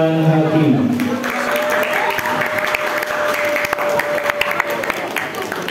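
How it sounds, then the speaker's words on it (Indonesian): Loud, dense applause from a crowd, steady clapping throughout with a sustained tone ringing in the background early on. "Berikan tepuk tangan yang meriah untuk Dewan Hakim."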